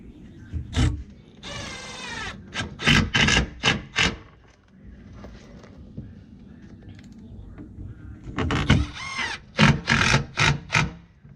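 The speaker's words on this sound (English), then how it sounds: "This is the 12-volt impact." A Milwaukee 12-volt impact driver drives screws into metal on a first-generation 4Runner tailgate: loud, close bursts of rapid hammering in two clusters, separated by a quieter stretch with no talk.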